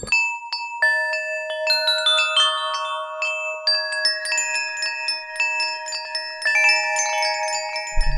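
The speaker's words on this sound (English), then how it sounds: "Wind chime-esque." Bright, chime-like tones from the UVI Toy Suite Acoustic virtual instrument, many overlapping metallic pings ringing and sustaining in a shimmering cascade, clean and close with no voices.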